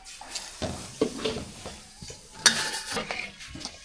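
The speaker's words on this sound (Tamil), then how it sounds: "ரவா கேசரி செய்கிறதுக்கு நெய்யிலே ரவா வறுத்து எடுத்துக்கலாம்" Semolina roasting in ghee for rava kesari, stirred in a pan with irregular scraping strokes and soft sizzling, plus a sharp clink of the spoon against the pan near the middle. No talking.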